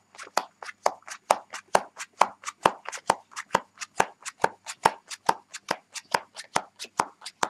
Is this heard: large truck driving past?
no